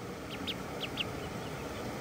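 A call duck on clear water gives three or four short, high, sharp calls spaced irregularly over a steady background hiss, moderately close.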